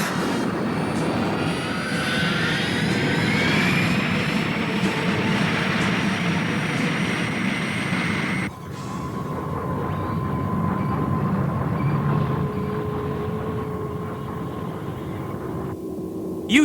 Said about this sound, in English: Restart the wave motion engine.